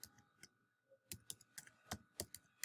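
Quiet typing on a computer keyboard, an irregular run of light clicking keystrokes close by, with no talking.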